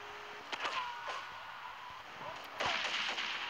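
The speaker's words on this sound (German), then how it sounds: "Was habt ihr jetzt auf mich schießen" Gunfire from the video game GTA III cracks in several short, sharp bursts, fairly faint and spread over a few seconds, with a louder cluster near the end.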